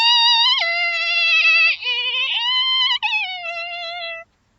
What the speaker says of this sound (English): A violin is a musical instrument and it sounds a bit like this.